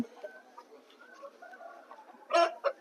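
A healthy rooster about 24 inches tall and near 4 kg, at a Vijayawada poultry market, gives soft clucks and low calls, then a loud, brief crowing burst near the end.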